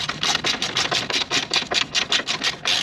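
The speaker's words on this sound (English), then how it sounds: "Notice if I'm ratcheting quickly, always hold the head." A ratchet wrench clicks in quick, evenly spaced bursts of about a dozen strokes, loud and close, while undershield bolts are removed from a Land Rover.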